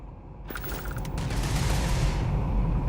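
Gunfire in the space game Starfield, a burst of shots and mechanical clatter starting about half a second in, followed by a sustained noisy roar of firing.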